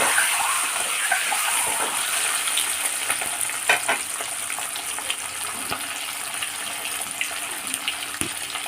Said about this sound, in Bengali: এবার ডিমগুলো আমি এক এক করে না সবটাই ঢেলে দিচ্ছি, একটু লাল লাল করে ভেজে নেব